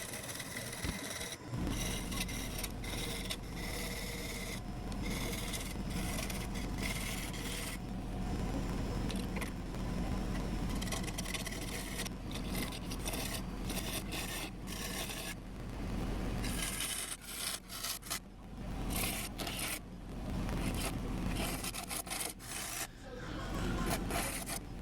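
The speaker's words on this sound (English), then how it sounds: "I use a large scraper for the final passes on the inside of the bowl" A large scraper works the inside of a wood bowl spinning on a lathe, producing a continuous rough scraping and rubbing with a low motor hum under it.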